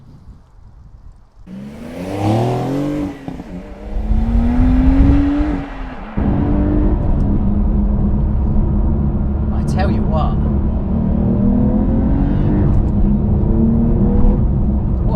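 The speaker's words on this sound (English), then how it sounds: "the Porsche Sports exhaust for the 992 generation it's definitely had a lovely uptick in noise" A Porsche 992 flat-six with sports exhaust roars as the engine revs and accelerates, then settles into a loud steady drone; someone speaks briefly over it.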